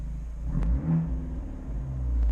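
An Abarth 124 Spider engine idles in neutral, then revs up once and settles back, a deep bassy rumble heard close by.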